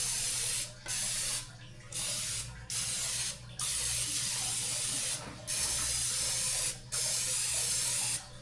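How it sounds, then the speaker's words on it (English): Several short bursts of butter-flavored cooking spray onto a dish, each a loud aerosol hiss lasting about a second, separated by brief pauses. "I'm gonna use it's a butter flavored cooking spray. Just gonna spray my dish with that first."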